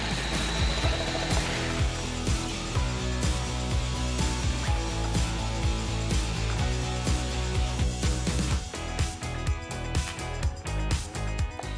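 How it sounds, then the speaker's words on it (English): A bamix SliceSy food processor cutting peeled potatoes into fine slices gives a loud, steady motor whir, crowded with rapid clicking and chopping ticks as the slices come off, and the pitch shifts briefly near the end. "Peeled potatoes are cut into regular fine slices in seconds."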